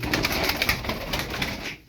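Tumbler pigeons in a loft, including blue and black-lightning birds, fill the air with a steady mix of coos and chirping calls, fairly close and continuous, ending abruptly.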